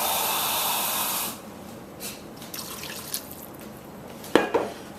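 Water poured into a cooking pot for spicy mango talkari, a loud rushing pour lasting over a second, then stopping, followed by faint drips and a few small clinks of the pot.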